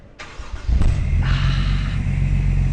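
A classic car engine cranks and catches outdoors at a car show, then revs up loudly and holds a steady, rumbling idle, close by with no voices.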